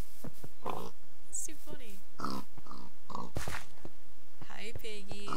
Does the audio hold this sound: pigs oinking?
yes